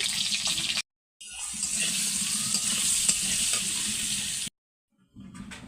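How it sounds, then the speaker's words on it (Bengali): Potatoes fry in an oiled pan with salt and turmeric for a pork dish, a steady, close hissing sizzle that cuts out briefly twice. "প্রথমে আমি আলুটা ভেজে নেব।"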